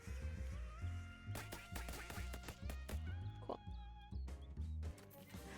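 Ducks in the video game Shadows Over Loathing quack in a quick run of short calls over music and sharp game effects, fairly quiet overall.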